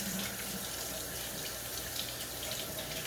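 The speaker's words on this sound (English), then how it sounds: "So let me just wash my hands a little here." Running water from a tap splashes steadily while hands are rinsed in a kitchen sink during cooking, a continuous close hiss with no talk.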